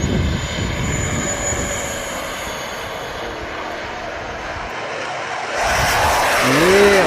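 A Freewing F16 Falcon 90mm EDF jet RC airplane flies past with a sustained high whooshing whine, growing louder and sweeping in pitch toward the end as it passes close by.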